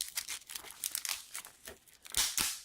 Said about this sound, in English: Let me take this out of the packaging.